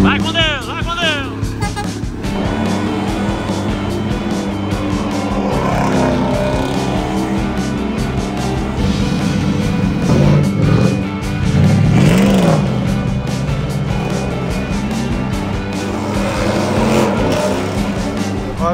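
A Scania truck pulls away on the road, its engine rumbling and revving steadily for a long stretch, with people talking over the noise throughout.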